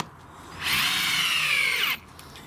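A power drill drives a screw into boards beside a greenhouse path: one close, loud whirring burst lasting just over a second, with the pitch sagging slightly as the screw bites, then stopping abruptly.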